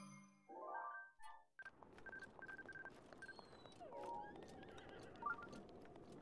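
Horses whinny and neigh in Zelda: Breath of the Wild as Bokoblins ride them, with game chimes and tones alongside and a quick clip-clop of hooves, the neighs loud and close against a soft background.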